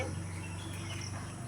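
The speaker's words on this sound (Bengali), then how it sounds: "চারিদিকে ঝিঝি পোকা ডাকছে।" Crickets chirp at dawn in a quiet outdoor setting, a faint, continuous, high trilling drone with a low steady hum underneath.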